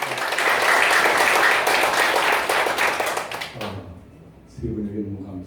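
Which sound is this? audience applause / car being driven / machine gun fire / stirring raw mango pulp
audience applause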